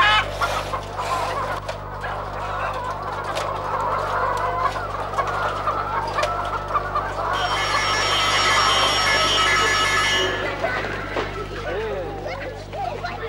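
Chickens cluck steadily at a village poultry farm raising birds and eggs for nearby villages and town hotels, with a rooster crowing near the middle over a low constant hum and some background voices.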